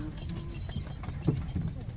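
Two donkeys' hooves clop on road pavement in a loose rhythm, close by, under a person speaking.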